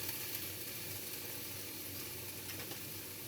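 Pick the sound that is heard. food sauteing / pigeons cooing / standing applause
food sauteing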